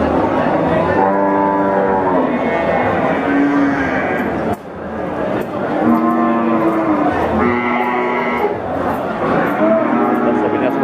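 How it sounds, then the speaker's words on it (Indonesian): Limousin cattle mooing at the busy Wirosari cattle market in Central Java, several long, loud lowing calls overlapping one after another, with crowd noise and voices underneath. "Ini kualitas sapi-sapinya, teman-teman"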